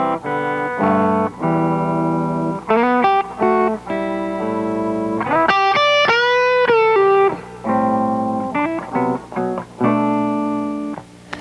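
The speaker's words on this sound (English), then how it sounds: "if I want that lick to have distortion, it's there." Electric guitar lick with distortion, a loud, close run of sustained single notes and bends, phrased in short bursts with brief gaps and one long held, wavering note in the middle.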